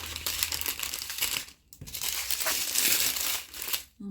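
Plastic packets of diamond art drills from a diamond painting kit are folded and crumpled up close, giving two bursts of crinkling separated by a brief pause.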